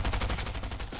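Rapid automatic gunfire in a Fortnite match rattles in a dense, fast string of shots, close and loud, with no talk over it.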